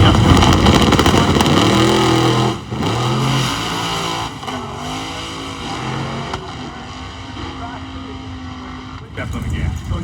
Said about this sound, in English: Steps on the gas.